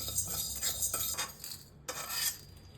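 A metal spoon clinks and scrapes against a pan as whole cumin, coriander seeds and peppercorns dry-roast over low heat, in several quick rattling strokes with short pauses and no voices.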